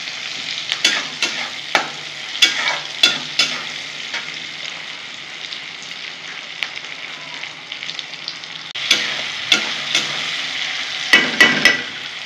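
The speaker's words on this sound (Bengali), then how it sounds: "টমেটোটা যে কেটে রেখেছি, অবশ্যই বিচিটা বাদ দিয়ে ওটা দিয়ে দেবো। টমেটোটা একটু নরম করে নেব।" Deseeded chopped tomato fries in a pan for a fish teljhal, bright sizzling hiss broken by repeated sharp scrapes and knocks of a stirring spatula, close and clear, no voices.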